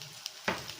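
Capsicum hits a hot pan while sautéing for masala Maggi noodles, giving a sudden burst of sizzling after a quiet moment, with a faint utensil tick earlier; brief and close, no voices.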